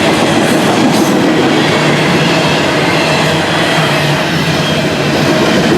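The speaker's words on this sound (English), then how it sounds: "I don't really like going under there until the train goes by." A train rumbles steadily past on nearby tracks, a loud continuous roar with faint clickety-clack of wheels throughout.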